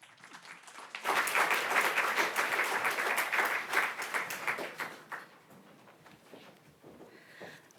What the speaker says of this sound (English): Please give a warm round of applause to Louise Harry.